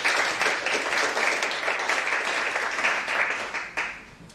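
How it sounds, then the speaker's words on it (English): Conference audience applauding together at a translation and interpreting event, a dense, steady wash of many hands clapping throughout, fairly loud and close, thinning slightly toward the end. "So let's give another round of applause to"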